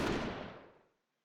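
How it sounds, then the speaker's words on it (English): A single gunshot in the Code: Realize video game, a sharp loud report at the start that decays into a short fading echo and then silence. "The report of guns pierces the night, echoing across the bridge."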